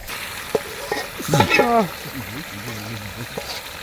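Marinated meat goes into a pan of onions fried down until soft, during night-time cooking, giving a steady sizzle that swells briefly as it lands while people talk over it.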